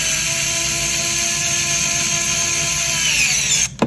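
A power drill or driver runs steadily, tightening screws that clamp a recessed light box to drywall, a loud continuous whine that slows and cuts off near the end with a brief rattle.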